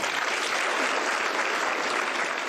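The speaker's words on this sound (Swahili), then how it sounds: "Makofi tafadhali." Applause from a crowd at a housing-project groundbreaking event in Kenya with the President present, dense and steady, filling the whole stretch without a break.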